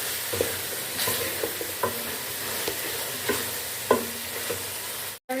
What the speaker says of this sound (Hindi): अब इसमें हम आलू डाल लेंगे। इसको हम अच्छे से मिक्स कर लेंगे।